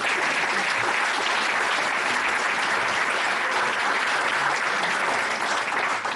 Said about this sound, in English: Please give a welcome applause to Rani.